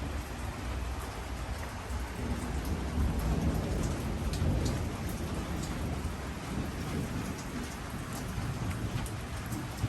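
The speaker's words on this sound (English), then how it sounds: "you saw rain in Los Angeles, that it does rain in Los Angeles from time to time" Steady rain falls in Los Angeles as a dense, continuous hiss of drops, with a low rumble of thunder rolling underneath around the middle.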